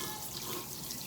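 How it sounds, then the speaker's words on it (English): Water from a kitchen tap runs steadily with a continuous splashing hiss while hands are rinsed beneath it, close and unbroken. "So let me rinse the hands off again."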